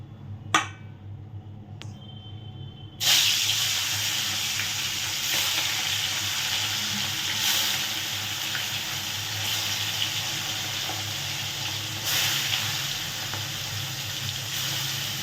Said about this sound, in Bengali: এইভাবে হালকা ভেজে নেব মাছগুলো।